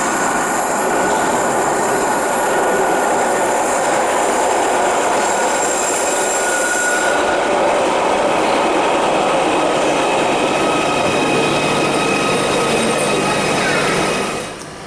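A new class 777 electric train runs steadily with a loud, continuous rumble and high wheel squeal heard from on board, holding constant before easing off at the end.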